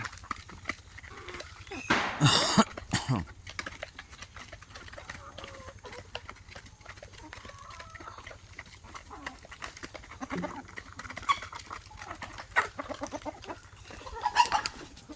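Tiger-breed chickens and a large rooster cluck and call in a backyard pen of about fifty birds, the loudest burst early, followed by scattered clucks over a quiet farmyard background.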